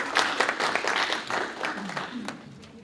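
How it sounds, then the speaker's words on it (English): An audience at an in-person Edison International lunch-and-learn event applauds, giving a steady, fairly loud patter of clapping for nearly three seconds that slowly fades, with voices mixed in. "give her a round of applause"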